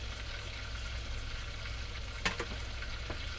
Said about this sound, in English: these babies are sizzling real nice here.